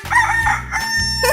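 A loud, close rooster crows once in a 3D animal slide video game, a drawn-out cock-a-doodle-doo with no talking over it.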